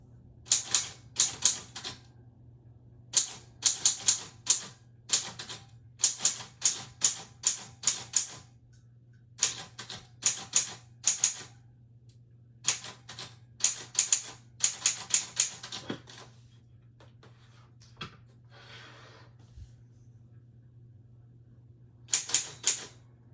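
Bursts of keyboard typing, loud and close, come in quick clattering runs separated by short pauses, repeating irregularly over the whole stretch with a low steady hum beneath and no voices.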